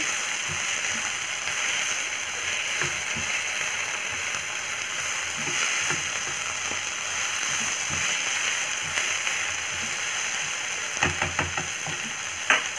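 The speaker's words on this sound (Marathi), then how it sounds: "चांगलं परतून घेऊया" Boiled potatoes and carrots sauté in a pan for vermicelli upma, giving a steady broadband sizzle throughout with occasional scraping stirs and small clinks, close and fairly loud, with no talking.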